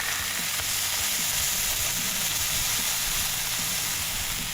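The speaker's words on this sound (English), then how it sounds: "That sizzle sounds good, doesn't it?" Smash burgers sizzle on a hot Lavalock griddle atop a Huntsman grill, a loud, steady, close frying hiss that runs unbroken with no talking.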